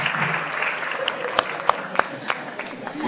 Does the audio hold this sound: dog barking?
no